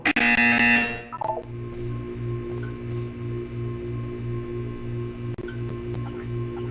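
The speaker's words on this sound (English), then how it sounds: "You will hear a buzzer." A loud buzzer tone sounds for about a second in the Portal 2 test chamber, then a steady pulsing electronic hum and faint machinery continue on their own.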